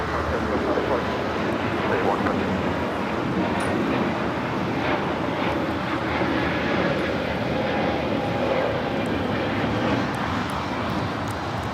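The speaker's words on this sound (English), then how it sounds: "This is Spirit Airlines 110, taking off to Salt Lake City on the A321neo." A Spirit Airlines A321neo powers down the runway at LAX on takeoff for Salt Lake City, a steady, loud jet engine roar holding evenly throughout with faint voices underneath.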